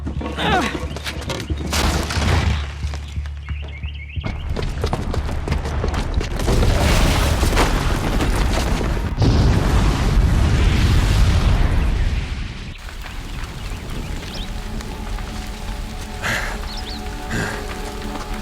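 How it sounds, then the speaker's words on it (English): In the video game Horizon Zero Dawn, a booby-trapped bomb sets off a long, loud run of booming explosions with rumbling debris and bursts. The blasts last for several seconds, and game sound carries on after them. "the booby trap on the bomb downstairs is gonna get set off"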